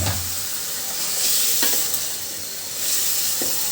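Washed vegetables are stirred and fried in a pan with a well-cooked spice paste. A close, continuous sizzle is broken by several scraping strokes of the stirring utensil.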